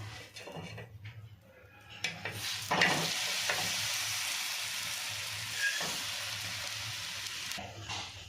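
An egg cheese sandwich toasts in a buttered pan with a steady, soft sizzle, briefly broken by a clatter of utensils and a turn of the bread, and then the frying hiss continues evenly.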